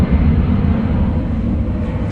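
An airplane passes overhead near DFW airport, a steady, fairly loud low roar and rumble that holds evenly throughout without any talk.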